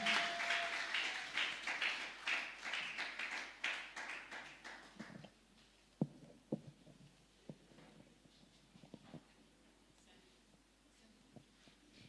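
Church congregation applauding and cheering in praise as a woman comes forward, loud dense clapping for about five seconds that then thins to scattered claps and faint room noise.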